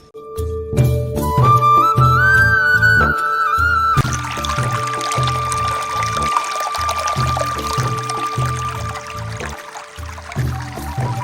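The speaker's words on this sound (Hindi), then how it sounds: "आप पानी का शोर देख सकते हैं, कितना ज़्यादा पानी का शोर है" Water rushes and pours loudly and continuously in Thub Patni Valley, Azad Kashmir, with rhythmic background music underneath.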